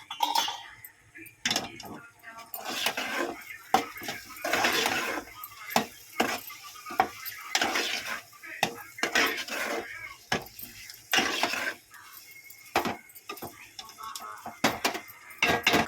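A spoon stirs chili powder into a mushroom curry in a pot, giving repeated metallic scrapes and clinks against the pot in an irregular rhythm, close and fairly loud, with a voice talking in between.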